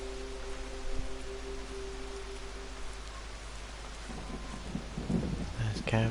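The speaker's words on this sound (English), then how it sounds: "Oh, it's raining." Steady rain patters across a PS4 game world, a broad even wash of droplets with low rumbles suggesting thunder, while a player talks intermittently over it.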